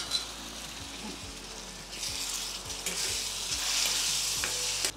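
Onions being stirred and sautéed in a chickpea masala gravy, with a soft continuous sizzle in the pan and occasional spoon scrapes and clinks, quiet and close with no talking.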